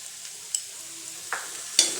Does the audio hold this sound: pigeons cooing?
no